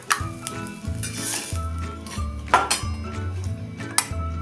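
A spatula scrapes and clinks against a kadhai in repeated strokes as eggs fry, with a soft sizzle underneath and no talking.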